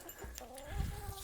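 A chicken clucks nearby in a chaotic animal setting, short quiet throaty calls with a few soft thumps and rustles around them.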